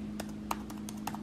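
Light keystrokes on a MacBook Pro keyboard tap out a few irregular clicks over a steady low electrical hum, close up and fairly quiet.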